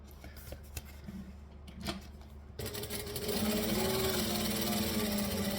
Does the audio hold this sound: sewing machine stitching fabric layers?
yes